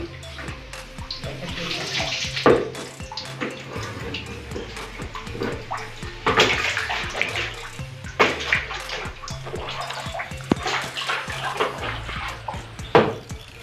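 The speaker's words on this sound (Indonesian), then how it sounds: "nek wong Jawa bilang tretesan atau tetesan air." Spring water drips and trickles steadily from a cliff wall at a shrine, with splashy splatter and occasional louder drops, and a voice speaks briefly in the background.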